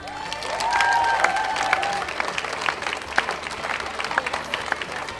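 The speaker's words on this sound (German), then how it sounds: "Ich glaube, das ist ein Applaus wert." An audience at a German church kickoff event breaks into applause that swells early, then keeps going as scattered individual claps, with some whistling or cheering near the start.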